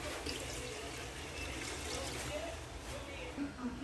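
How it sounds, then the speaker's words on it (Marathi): Water poured into a pot of biryani masala and spices makes a soft, continuous trickling and splashing, fairly quiet, with a faint voice in the background. "याच्यामध्ये मी आता पाणी टाकत आहे."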